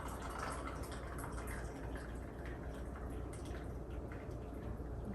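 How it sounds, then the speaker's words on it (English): Tea poured into a cup that already holds cream and a little sugar, a steady, soft liquid rush running unbroken for several seconds with no voices. "Pour me a nice cup of tea."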